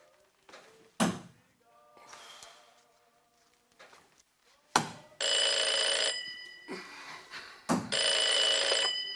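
An old landline telephone bell rings loudly in long bursts after a few knocks and thuds, with a door or drawer sound early on; each ring is a sustained metallic trill close by.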